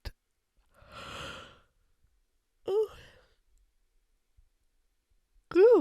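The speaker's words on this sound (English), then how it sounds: "ooh, that was a good yawn." A long, breathy yawn drawn out over about a second, followed by two short voiced exhalations or sighs, close and fairly loud in a quiet room.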